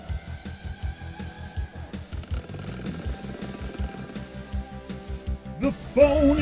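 A phone rings during a soup-themed call-in show: bright repeated bell-like electronic chimes over a steady thumping beat, moderately loud, with no voices over them.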